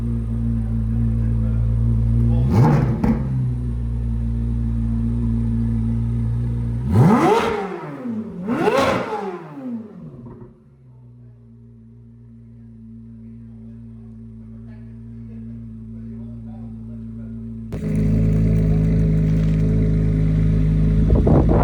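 A C8 Corvette Z06 with a new F1 exhaust revs hard several times with sharp rising and falling exhaust roars, then settles to a rumbling idle before revving up again.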